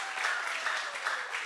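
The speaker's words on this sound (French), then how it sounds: "Applaudissez pour maman." A small group claps for a mother during a French lesson, a quiet, light patter of hands with a few distinct claps standing out, brief and fairly soft.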